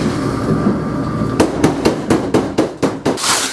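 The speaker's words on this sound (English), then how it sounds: "Forgot to take my tool out of the dryer." A metal tool tumbling inside a running clothes dryer gives loud, regular clunks about every quarter second, following a steady drum hum, close and without talk.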